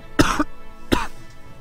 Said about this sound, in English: oh god, cough coming